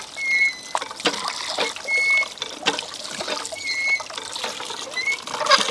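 Raw liver for Armenian tzhvzhik is rinsed under a running tap, with close, irregular trickling and splashing of water that rises and falls over several seconds; no one speaks.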